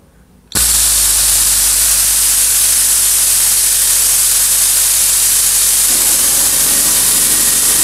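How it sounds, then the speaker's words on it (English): A Ridgid 4.5 air compressor hisses steadily and loudly as air rushes out, a constant broadband rush with a low motor hum beneath, starting abruptly after a short quiet moment and continuing unbroken. "I'm sure you guys just heard the air compressor go off. And that air is still going"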